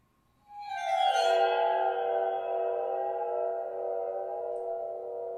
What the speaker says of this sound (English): What you're hearing right now, this is a water phone.